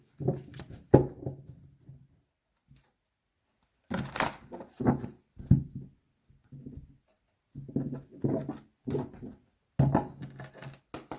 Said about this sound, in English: Oops, that was a really bad shuffle.